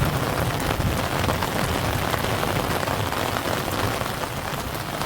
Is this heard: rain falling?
yes